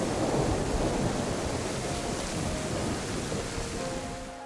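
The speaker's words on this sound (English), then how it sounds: "That rain is crazy heavy." Heavy rain pours down in a survival video game, a dense, loud, continuous wash of noise with no letup and no voices.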